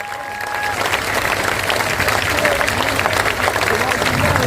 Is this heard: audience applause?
yes